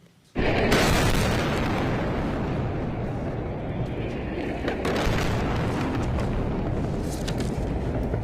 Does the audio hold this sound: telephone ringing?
no